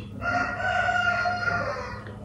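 A rooster crows once, a long, clear cock-a-doodle-doo close to the microphone. The call sustains a harmonic tone over about two seconds against a quiet background, with no talk.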